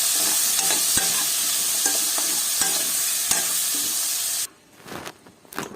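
Onions and tomato sauté in a pan for a chepakalangkara kulambu, giving loud hissing sizzle with scraping stirs, then dropping abruptly to quieter, intermittent sputters near the end.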